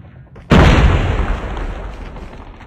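A grenade explodes in the shooter game Call of Duty Mobile, a sudden loud close boom after a brief lull, its rumbling decay trailing off over a couple of seconds.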